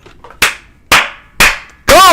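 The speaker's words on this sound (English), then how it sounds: "Golf clap." A single person gives a slow golf clap with three sharp, spaced hand claps, followed by a louder, harsher burst at the end.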